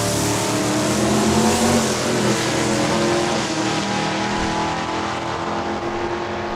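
Junior dragsters race side by side down a drag strip at Saskatchewan International Raceway in Saskatoon, a loud, steady engine roar filling the whole stretch without a break and fading only slightly near the end.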